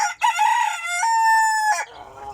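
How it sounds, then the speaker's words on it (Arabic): A Fayoumi rooster among hens crows one loud, close, drawn-out call, rising then holding a strained tone before breaking off, with faint background clucking from the flock after it ends. "ها هو هذا هو ديك الفيومي معروف بالخصوبة ديالو بالمناعة ديالو"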